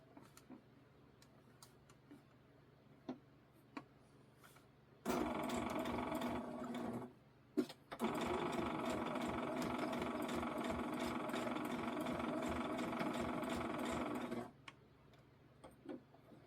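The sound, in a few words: sewing machine stitching a straight stitch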